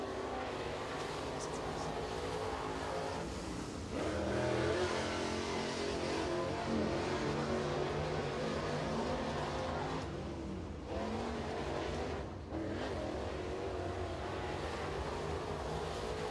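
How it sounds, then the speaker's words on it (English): A crate race car laps Crossville speedway in qualifying, its engine roaring steadily with rising and falling revs through the corners, heard from the track side under faint announcer talk. "Next car out onto the speedway"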